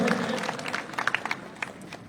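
A crowd claps at a Congress party political rally in Dwarka, producing a brief, dense burst of applause with scattered sharp claps.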